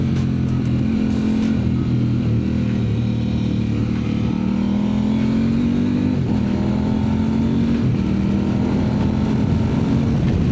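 A KOVE 800X GT adventure motorcycle with a quickshifter rides along, its engine droning loud and close with steady wind rush as the revs climb and drop through quick gear changes, no talk.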